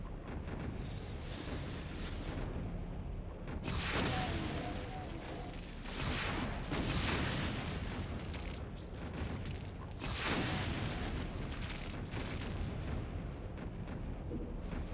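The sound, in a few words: non-stop shooting, mastermind fighting imps, Doom Brutal Mod game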